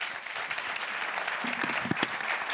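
An audience at a fintech roundtable on CBDCs and stablecoins breaks into applause, a moderately distant wash of clapping with a few louder individual claps near the end.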